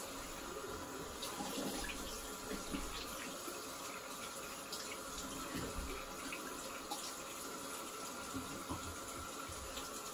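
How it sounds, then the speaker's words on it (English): A bathroom tap runs steadily into a sink while rinsing during a wet shave, a continuous close hiss of water lasting the whole stretch with small splashy variations and no talk. "Just gonna rinse."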